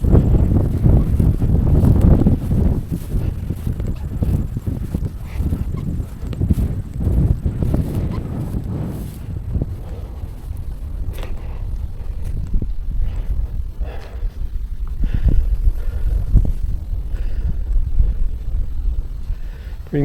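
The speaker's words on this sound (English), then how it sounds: "see how this wind is." Strong wind blows at a lake at night during fishing, producing a loud, constant low rumble and buffeting against the microphone that keeps surging and easing throughout.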